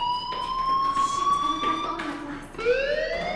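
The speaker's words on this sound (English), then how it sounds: "Hey, do you hear that fire alarm?" School fire alarm in the video game Life is Strange, a loud wavering electronic wail that dips and rises again near the end, sounding continuously without talk.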